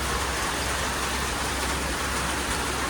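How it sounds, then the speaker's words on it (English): Steady, dense downpour of heavy rain hissing continuously on surfaces nearby, loud and unbroken throughout. "Started raining heavily again."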